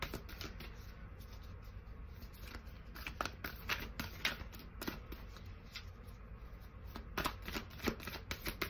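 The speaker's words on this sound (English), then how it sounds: "I'm going to pull from one more, the Moon Child Tarot, and see what we got here" Moon Child tarot cards being shuffled by hand, a soft continuous papery riffle with scattered crisp snaps and flicks, close and quiet, with no voices.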